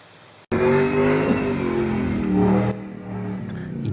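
A big V8 in an old Nissan GQ wagon roars to life with a sudden loud revving burst, holding a throaty rising growl for about two seconds before dropping back to a quieter idle.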